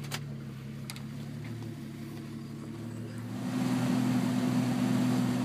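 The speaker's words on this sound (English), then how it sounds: "Here we are driving down the road." A 1961 Ford Ranchero Custom rolls down the road, a steady low engine drone with tonal hum that swells louder after a few seconds, no voices present.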